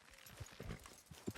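Horses walk in the video game Red Dead Redemption 2, their hooves clip-clopping in faint, uneven, close hoof beats over a few seconds.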